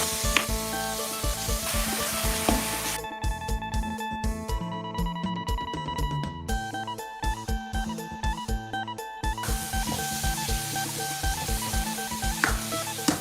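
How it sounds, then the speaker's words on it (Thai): Fresh pork stir-fried in a pan for a northern Thai curry with wax gourd and glass noodles, giving a steady close sizzle with scraping and stirring clatter throughout, and a stretch of louder clattering in the middle. "ตอนนี้เราก็ผัดให้หอมแบบนี้เลยค่ะ"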